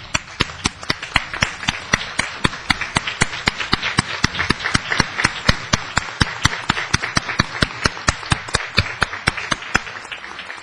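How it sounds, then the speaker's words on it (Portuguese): A conference audience rises for a standing ovation for Paulo, giving a sustained round of applause that starts strong and carries on evenly for about ten seconds with sharp individual claps standing out, no voices on top. "Eu peço que nos levantemos com uma salva de palmas ao Paulo."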